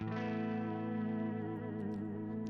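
Jackson Pro Series Soloist electric guitar through effects, a sustained clean-leaning chord ringing out with chorus-like shimmer and echo, slowly decaying, close and alone with no talking.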